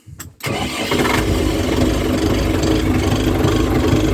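A DF 404 mini tractor engine cranks briefly and catches, then settles into a loud, steady rattling idle close by.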